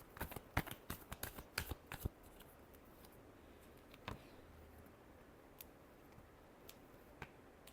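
Tarot cards being shuffled by hand during a reading: a quick run of crisp riffling snaps over the first two seconds, then sparse single card flicks and taps against a quiet background.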